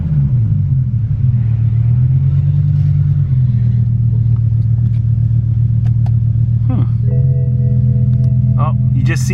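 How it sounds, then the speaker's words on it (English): A BMW M5 V10 engine idling roughly with a nasty ticking from the front, a steady low rumble that wavers at first, with light taps and clicks over it. "still idling fairly rough. It's making a really nasty, what sounds like ticking noise out of the front there."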